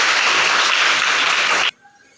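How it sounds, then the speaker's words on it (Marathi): An audience at a school game event bursts into dense, loud clapping that holds steady, then cuts off abruptly near the end, leaving near silence. "टाळ्या वाजवायच्या सगळ्यांनी"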